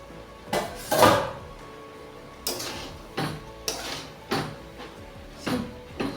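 Metal pot lid lifted off a cooking pot of bottle gourd greens with jackfruit seeds, giving a sharp clank followed by several lighter clinks and taps of metal on metal in a quiet kitchen.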